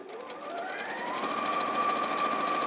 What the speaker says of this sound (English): it's just as quick to do it on the machine